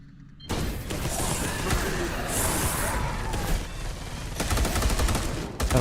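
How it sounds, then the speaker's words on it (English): Turret firing in a Space Hulk Warhammer game, sustained rapid, loud automatic gunfire rattling continuously after an abrupt start, with heavier bursts toward the end and a voice occasionally speaking. "I'll turn this turret on."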